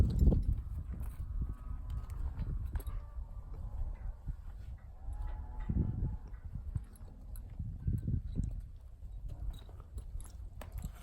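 Slow hoofbeats of a colt being led at a walk nearby, a steady clip-clop over a low rumbling background, with faint movement noises.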